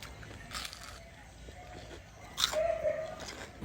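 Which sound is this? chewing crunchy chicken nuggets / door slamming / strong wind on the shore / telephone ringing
chewing crunchy chicken nuggets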